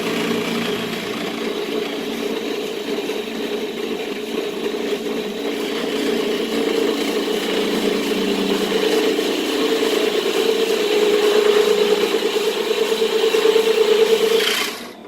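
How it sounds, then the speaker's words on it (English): A drill press runs steadily in a workshop, a continuous mid-pitched motor whir with light rattle that rises slightly and holds before cutting off near the end, with no talking. "not the best drill press in the world"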